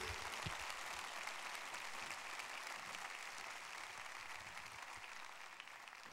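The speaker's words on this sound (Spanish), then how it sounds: "¿Por qué no le da un fuerte aplauso a Dios" A church congregation gives God a round of applause, a faint, even clapping sustained throughout with a few soft thumps early on.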